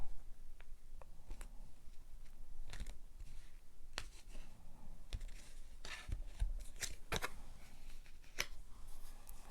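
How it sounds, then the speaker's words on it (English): Quiet, sparse clicks and soft papery snaps of a tarot deck being handled and cut, irregularly spaced, with no talking. "I'm going to cut the deck."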